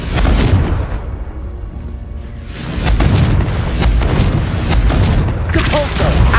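Confringo fire spell bursts in Hogwarts Legacy, loud booming blasts landing in a rapid series with a brief lull in between, mixed with game effects and spoken spell incantations.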